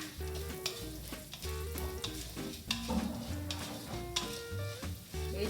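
Urad dal and mustard seeds fry in hot oil for a South Indian chutney, giving a continuous close sizzle with crackling pops and occasional light stirring clinks, and no voices.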